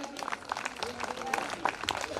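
A church congregation at a semi-Christmas service claps, a dense irregular patter of hands with some louder individual claps, mixed with voices in the room.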